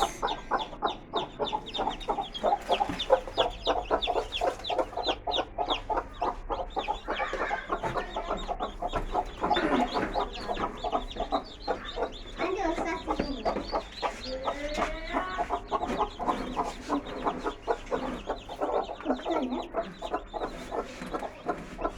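Newly hatched chicks peep continuously in a fast, even rhythm beside their hen, the brood being six chicks from fifteen eggs. Faint clucking and occasional background voices blend in.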